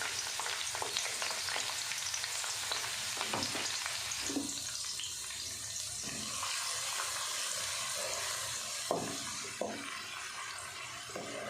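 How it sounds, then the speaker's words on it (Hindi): Chopped onion sizzles in hot ghee in a pan with a soft, steady frying hiss. Faint scrapes and clicks of stirring break through now and then, with no one talking. "घी गर्म हो गया, अब इसमें डाल देंगे 1 प्याज,"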